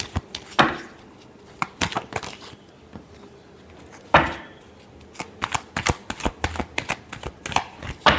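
Tarot cards shuffled by hand in a Libra reading, with bursts of riffling and repeated sharp card snaps, two long riffles standing out amid a run of quick slaps, close and fairly loud with no talking.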